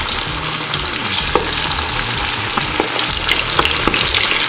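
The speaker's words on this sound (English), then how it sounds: "Go ahead and drop that down in the grease." Chicken frying in hot grease at 350 degrees, a loud, steady sizzle and crackle with scattered pops, close up and with no voices over it.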